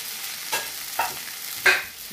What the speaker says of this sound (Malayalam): ചിക്കൻ നന്നായിട്ട് ഇളക്കണം.